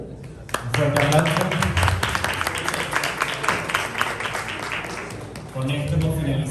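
Applause at the final of the 2024 ASPADE invitational tournament, steady crowd clapping that swells and runs throughout, with voices and a loud stretch of talk over it near the end.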